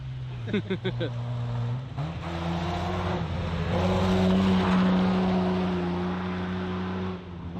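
A BMW rally car's engine roars loudly close by on a forest rally stage, revving with gear changes and a sustained high drone as it passes, with faint talk mixed in.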